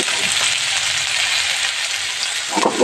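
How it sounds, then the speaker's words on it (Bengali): Potatoes with turmeric fry in a kadai, a dense steady sizzle of hot oil heard close and unbroken, with a short scrape of stirring near the end. "আলুটা দিয়ে দিয়েছি কড়াইতে, আলুটা ভেজে নেব।"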